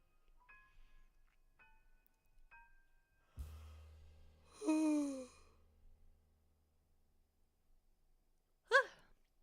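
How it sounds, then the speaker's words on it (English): A person yawns nearby in a quiet room: one drawn-out voiced exhale that rises and falls. A few faint electronic beeps come before it, and a short breathy sigh follows a few seconds later. "That was my yawning sound."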